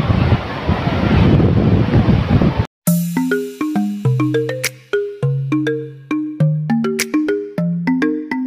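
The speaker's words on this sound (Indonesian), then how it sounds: "Jadi aku sekarang lagi di pantai." Wind and surf at a beach roar as heavy, rushing buffeting against the microphone for under three seconds, then cut off abruptly as plucked, tinkling melodic music takes over.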